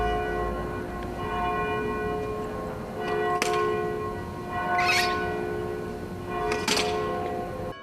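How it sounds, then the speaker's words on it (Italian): Diocesan church bells ring out across Vicenza during a minute of silence, sustained tolling tones with a few sharp strikes standing out over distant ambient noise, no voices. "come sottofondo solo le campane della diocesi che risuonano in tutta Vicenza"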